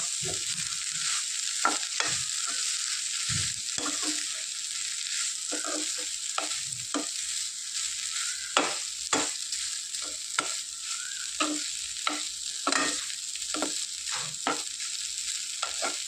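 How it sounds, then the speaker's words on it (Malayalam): Powdered puttu is stirred into an egg mixture in a hot pan, giving a constant bright sizzle broken by repeated, close scraping strokes of the spoon. "പൊടിച്ചു വെച്ചിരുന്ന ഈ പുട്ട് ഇതിലേക്ക് ചേർത്ത് കൊടുക്കാം ചേർത്ത് കൊടുത്തിട്ട് നന്നായിട്ടൊന്ന് ഇളക്കി യോജിപ്പിക്കുക"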